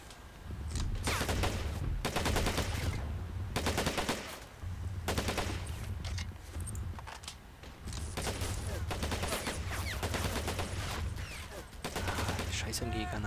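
Sustained bursts of machine gun fire in the World War II strategy game Men of War: Assault Squad, loud and close, with repeated rattling volleys separated by short pauses and someone talking intermittently over the shooting.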